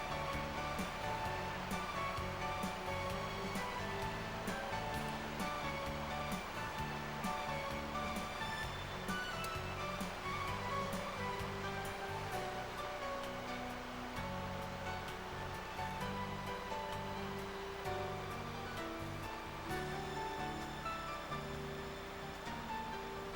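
The Adams River rushes in a steady, full roar where sockeye salmon swim upstream against the current, continuous and unbroken, with tonal background music layered over the water.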